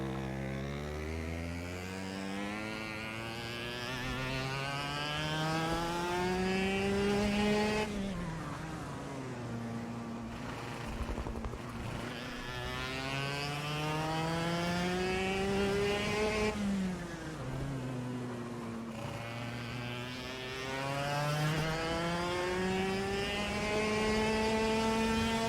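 Racing kart engine on a controlled lap in KartKraft, a buzzy high-revving whine that climbs along the straights and drops sharply when braking for corners, repeating in several up-and-down cycles.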